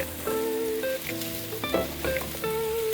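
Onions and bay leaves fried and stirred in a pan make a bright sizzle with spatula scrapes and clinks, close and fairly loud, with a clear ringing tone running through it.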